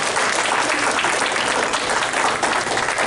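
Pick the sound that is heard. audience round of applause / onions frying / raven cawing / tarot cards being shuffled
audience round of applause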